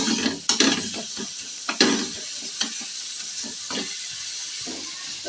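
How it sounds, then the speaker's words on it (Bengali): Onions sizzle and fry steadily in a pan, with a constant bright hiss broken by a few louder clatters and scrapes of stirring. The sound is close and there is no talking. "এটা কিছুক্ষণ ভাজবো তারপর আমি দইটা দেবো যাতে পেঁয়াজের কাঁচা গন্ধটা ভালো করে বেরিয়ে যায়"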